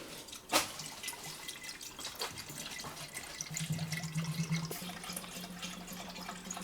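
Liquid is poured into a Ford Fiesta ST engine, trickling and dripping steadily for several seconds, with a sharp knock near the start and a low hum underneath.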